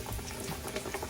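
Pork chops sizzle and crackle in hot grease, a steady bubbling hiss at moderate volume for a brief moment.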